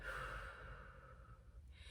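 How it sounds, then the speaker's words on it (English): A slow, soft breath is heard, drawn in through the nose and let out through the mouth as part of diaphragmatic breathing practice, quiet and close, fading toward the end. "Breathe in your nose and out your mouth."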